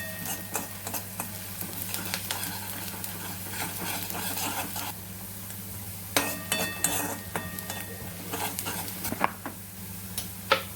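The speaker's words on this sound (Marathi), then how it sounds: "असा कांदा कापायचा आणि ब्राऊन होऊन द्यायचा" Chopped onions fry in a pan in a home kitchen, a soft continuous sizzle broken by scraping stirs and occasional clinks of a spoon against the pan.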